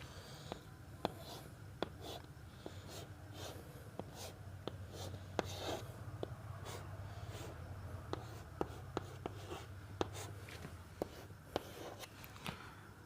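Chalk or marker strokes on a board as chemistry notes are written, a faint, steady run of tapping and scratching taps and rubs continuing throughout with quiet room hum.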